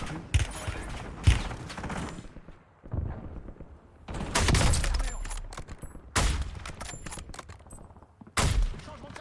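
Video game gunfire in bursts of rapid automatic shots and single cracks, loud and close, separated by brief quieter gaps with faint background game sounds.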